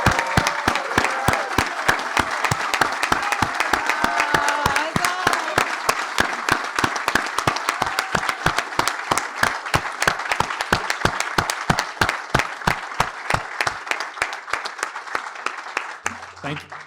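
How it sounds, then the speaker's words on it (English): An audience applauds at the grand opening celebration of the Benjamin Lincoln House, a dense, sustained round of many hands clapping close by that carries on for well over ten seconds, with a voice faintly heard early on. "Could we give them all a round of applause?"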